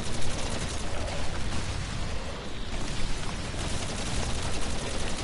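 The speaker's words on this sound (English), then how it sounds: "Keep shooting" Dense, continuous gunfire in a video game, rapid overlapping shots forming a loud, sustained crackling barrage with no talk.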